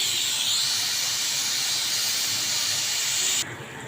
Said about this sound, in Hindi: अब हम अपना प्रेशर कुकर खोल दें।